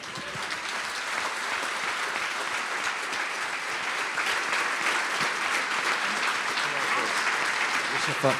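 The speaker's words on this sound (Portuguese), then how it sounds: "Eu gostava que nós dessemos um aplauso a Deus pela vida deles." Sustained applause from a church congregation, loud and continuous throughout, swelling slightly toward the end.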